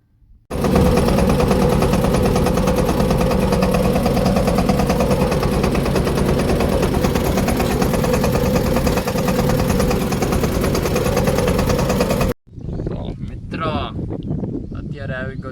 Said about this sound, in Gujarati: અત્યારે આવી ગયો છું ટ્રેક્ટર હાંકવા. જોઈ શકો છો તમે.